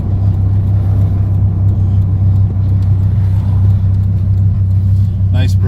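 A 2002 Hennessey Viper race car drives along with a loud, steady low engine rumble and road noise throughout, rising slightly at the end.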